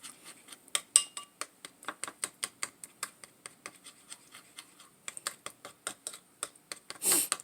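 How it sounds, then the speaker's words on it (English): A utensil stirring a melted mixture in a small dish for Whole30 beef short ribs, with close, steady scraping and tapping strokes in a regular rhythm and no talk. "Just need to stir it up."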